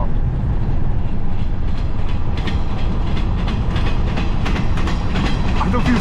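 A freight train passes close by in Kings-Tulare County, California, loud and continuous with rhythmic clickety-clack of wheels over rail joints throughout.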